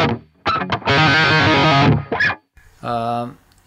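Distorted electric guitar through a Line 6 Helix amp modeler with high gain, thick, sustained harmonic chords, a few short bursts, then one long held chord and a final ringing note; loud and close.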